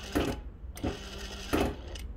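Reliable SewQuiet 6000SM industrial sewing machine with a newly installed synchronizer, its motor engaging so the needle stops down, giving three short mechanical clunks and whirs at a steady rhythm, close and moderately loud over a faint motor hum.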